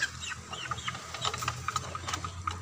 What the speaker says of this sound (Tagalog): Ang mga manok.